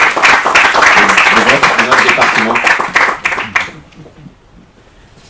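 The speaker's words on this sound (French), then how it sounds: "je crois qu'on peut applaudir le président" Audience applause at a colloquium on sport and the integration of migrants and refugees, loud clapping for three seconds with a voice speaking over it, then quickly dying away to near silence.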